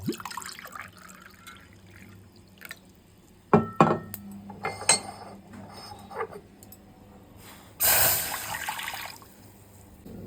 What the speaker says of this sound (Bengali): তো চায়ের জন্য জলটা নিয়ে নিচ্ছি